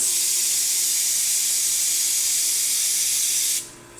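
A Rocket espresso machine's steam wand hisses loudly and steadily for several seconds during a post-service test, then cuts off abruptly, leaving a faint residual whisper.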